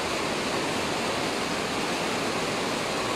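Floodwater rushing through a street during extreme weather in Ecatepec, a steady, dense roar of flowing water filling the scene evenly throughout, with no voices.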